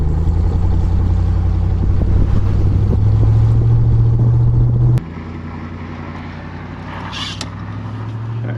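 A Ram TRX pickup's engine drones loudly from inside the cab as the truck turns around, then drops to a lower, calmer rumble halfway through.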